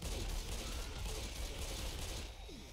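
Gunfire in Left 4 Dead 2, a steady rattle of rapid shots in a continuous fusillade, sounding moderately distant and faint beneath a dense noisy background.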